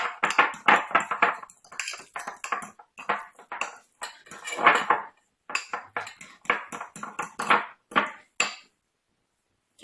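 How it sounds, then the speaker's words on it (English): Avocado being mashed and stirred for guacamole in a bowl, heard as a quick run of close, wet squelches and soft utensil knocks in irregular bursts, stopping near the end. "Mash and stir, mash and stir."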